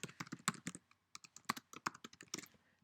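Typing on a computer keyboard to fill in an online form, a close, quiet series of uneven clicks and key taps with one brief pause, and no voices.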